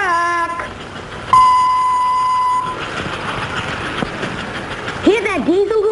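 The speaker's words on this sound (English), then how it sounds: "Hear that diesel horn? That's built right into the locomotive, and we could make it blast just by pushing a button." An American Flyer model diesel locomotive sounds its built-in horn in several tonal blasts, one long steady note among shorter ones, over the rumble of the running model train, with a voice speaking briefly near the end.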